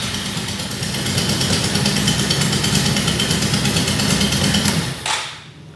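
A Riva 600 motorcycle engine idles close by with a rough, rapid, rhythmic knocking pulse. It runs steadily for about five seconds, then drops away abruptly.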